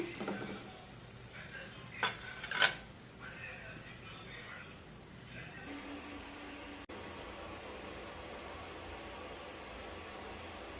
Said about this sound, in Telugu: బీట్రూట్ ఇలా కలవ తిప్పుకోవాలి మగ్గనివ్వాలి